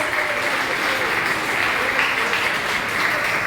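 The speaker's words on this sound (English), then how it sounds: "give them another round of applause" An audience gives a round of applause for a senior school choir at a graduation ceremony, a steady, dense wash of many hands clapping that holds at an even level throughout, with faint voices mixed in.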